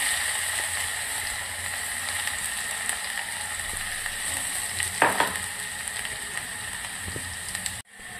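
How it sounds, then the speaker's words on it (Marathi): Mustard seeds, curry leaves, garlic and cumin sizzle in hot oil while tempering cooked dal, a steady close-up crackling fry with occasional sharper pops and spits throughout. "इथे आता वरणाला फोडणी द्यायची।"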